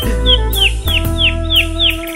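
A canary chirps in repeated short bright calls, about five evenly spaced tweets over a steady musical background, close and clear.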